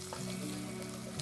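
Garlic hits hot oil with softened onions for a chicken biryani, giving a steady close sizzle with a faint low hum underneath and no talking.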